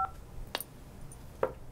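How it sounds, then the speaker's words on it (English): Telephone keypad tones sound on a conference call as buttons are pressed to unmute, with short distinct beeps at the start, in the middle and near the end, faint and close, with no voices. "Do I hit star 5 to unmute?"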